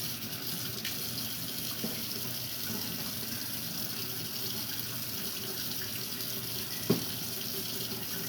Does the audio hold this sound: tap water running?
yes